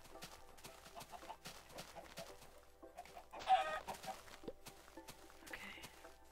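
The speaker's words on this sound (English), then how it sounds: "there are a crap load of chickens here and eggs" Chickens cluck softly in the video game Minecraft, faint scattered clucks and a louder squawk in the middle over quiet footsteps and game ambience.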